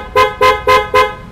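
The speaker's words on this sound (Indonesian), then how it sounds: "Nih kayak gini klakson ini." An aftermarket horn fitted to an Aprilia SR GT 200 scooter gives four loud, evenly spaced toots close by, each short and sharp, with brief gaps between blasts.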